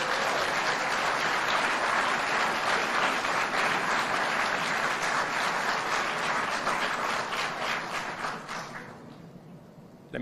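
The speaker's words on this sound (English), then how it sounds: "Maybe I could get some more applause." A large audience applauds a speech by the President of Kenya, sustained dense clapping at steady loudness for most of the clip before tapering off near the end.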